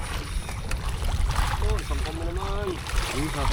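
Small fishing boat turning on the water in Manila Bay, with water sloshing and splashing against the hull close by while people talk.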